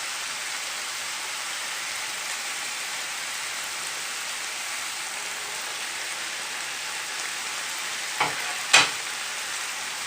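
Peppers fry in a pan with liver, giving a steady, bright, close sizzle like heavy rain, with two brief clattering knocks of a utensil near the end.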